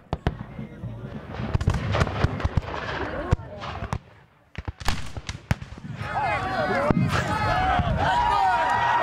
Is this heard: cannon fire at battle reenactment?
yes